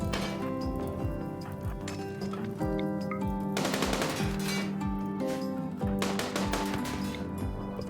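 Rapid bursts of automatic gunfire and single shots trade back and forth in a RimWorld battle against turrets, dense and continuous over layered game music and effects, with no talking.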